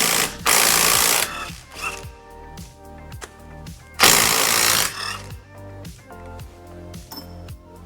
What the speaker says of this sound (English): These bolts are 17 millimeter, and you want to use an impact again.